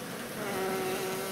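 Honeybees swarming noisily around a hive during a failed queen replacement, a dense sustained buzz close to the microphone with a steady drone tone running through it and no talking.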